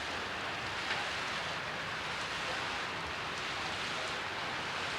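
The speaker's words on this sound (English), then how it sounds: "but it's really raining heavy right now." Heavy steady rain pours down on a wet, gloomy morning in farm country, a dense continuous hiss with no break and no voices.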